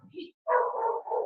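A dog barks indoors with a short, loud, close bark followed by a drawn-out yelping whine, briefly preceded by faint background sounds.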